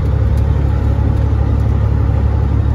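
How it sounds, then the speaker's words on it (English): Jake brake on a flatbed semi truck, a loud, steady low engine rumble heard from inside the cab, continuous and close with no pauses. "Let's listen to some Jake Breaks."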